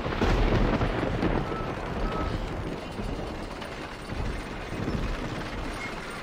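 Heavy lift machinery in Red Dead Redemption grinds as its gears engage, giving a loud, continuous rumbling clatter with ratcheting mechanical texture that swells and dips slightly over several seconds.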